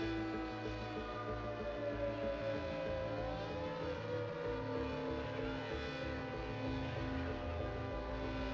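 Air raid siren sounding across Hiroshima, a steady wailing tone held throughout under dense mixed background noise, with no talk.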